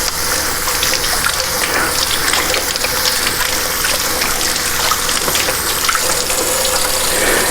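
Tap water runs steadily and loudly into a kitchen sink while hands are washed, a constant close gushing with no talk.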